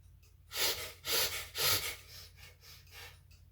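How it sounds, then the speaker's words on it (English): A full, normal inhale and exhale repeated as a breathing exercise, three loud airy breaths in quick succession followed by softer, quieter breaths, close to the microphone and with no talking. "start with a full normal inhale, normal exhale"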